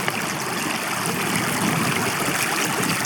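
Water rushing steadily in a stream along the Laugavegur Trail in Iceland, a dense, continuous wash of flow close by with no voices over it.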